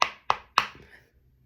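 Tarot cards being shuffled and tapped: three sharp, crisp knocks in quick succession, each fading fast, close and fairly quiet with no talk.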